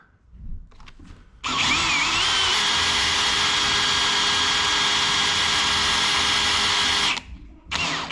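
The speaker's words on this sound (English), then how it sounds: "and then we'll start drilling it out" A power drill with a hole saw bites into a door to cut a lock hole, a loud, sustained whine and grinding lasting several seconds before stopping abruptly, with short start-up bursts on either side.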